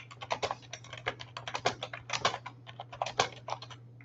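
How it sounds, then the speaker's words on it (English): Steady typing on a stiff computer keyboard whose keys must be pushed hard, a rapid, uneven run of clicks and clacks with a low electrical hum underneath and no talking. "you can't use this keyboard"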